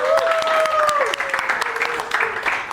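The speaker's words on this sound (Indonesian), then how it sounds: "Kasih aplaus buat Ihsan" Classroom applause for a student named Ihsan, a dense patter of clapping hands throughout with a voice speaking over it, close and fairly loud.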